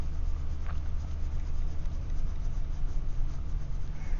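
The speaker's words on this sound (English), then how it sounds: "I'm going to press down a little bit harder on my colored pencil" A colored pencil presses firmly against paper, giving a continuous close scratching and rubbing as the area is filled in with steady back-and-forth strokes, no voices.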